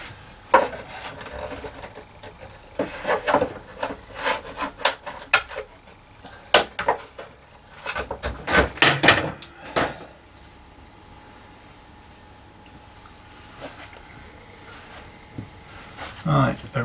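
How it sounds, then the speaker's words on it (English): Wide-bladed chisel carving a spruce block for a bass, giving bursts of sharp, close scraping and tapping strokes in irregular clusters, with quieter pauses between them. "so I shall use a wide blade, 6¼ bladed chisel"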